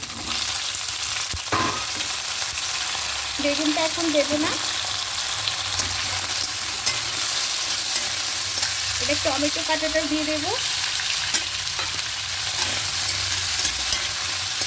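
Taro stems, taro and potato fry in hot oil, a continuous even sizzle with occasional stirring scrapes, while someone talks briefly over the cooking.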